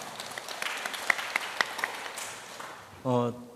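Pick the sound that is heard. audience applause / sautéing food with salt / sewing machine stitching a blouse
audience applause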